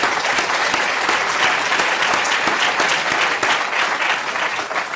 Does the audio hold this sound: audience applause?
yes